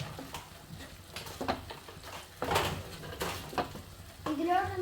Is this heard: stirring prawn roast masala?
yes